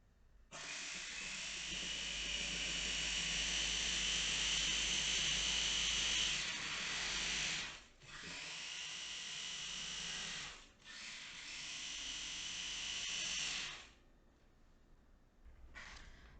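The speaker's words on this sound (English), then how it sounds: "we're going to lock the lid in on top, and we can chop and grind until it's super fine" A food processor grinds Oreo cookies in three loud whirring bursts of its motor, each cutting off sharply before the next, close and without talk.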